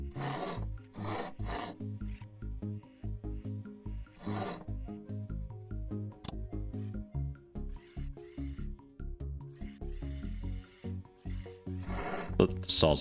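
Rhythmic rasping strokes of a saw cutting wood in the game RoboCo, repeating back and forth over a looping electronic music bed.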